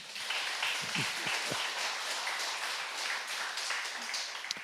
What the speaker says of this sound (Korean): 박수 한번 치시기 바랍니다